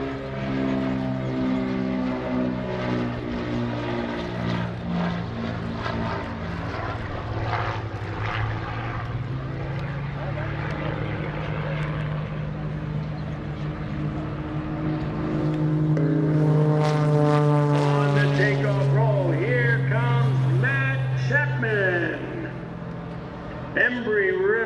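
Beechcraft T-34 Mentor propeller airplanes drone past at an airshow over Greenwood Lake with a loud engine hum that rises and shifts in pitch as they pass, while an announcer talks over it.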